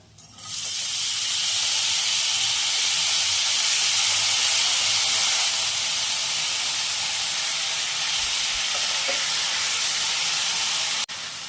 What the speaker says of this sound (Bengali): চালটা ভালোভাবে নাড়াচাড়া করে নেব ঘিয়ের সাথে